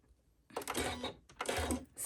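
A sewing machine runs in two short bursts, understitching a garment seam on the lining side, with quiet pauses between the close, whirring runs.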